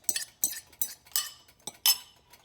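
A fork or whisk clinks sharply against a bowl while eggs are beaten for a Flamin' Hot Cheeto omelette, six distinct taps spaced about every half second, close and clear with no talking.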